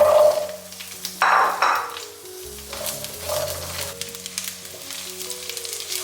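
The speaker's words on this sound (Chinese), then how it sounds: "然后我们来起锅热油，把独蒜先炒香。" Whole solo garlic bulbs stir-fry in hot oil in a pan for claypot chicken, with a loud initial hiss easing into a steady, moderate sizzle and occasional soft stirring.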